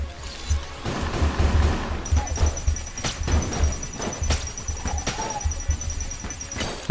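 A rainbow-bullet gun firing repeatedly in the video game Enter the Gungeon, rapid punchy shots and crashes over a low throbbing hum and a steady high electronic tone.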